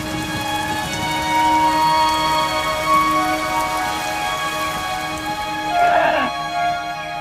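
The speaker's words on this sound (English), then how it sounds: "the rainy season descends on Copan" Steady rain pours down as the rainy season sets in at Copan, the ancient Maya site, a dense continuous hiss of drops on surfaces lasting throughout with a brief swell of splashing near the end.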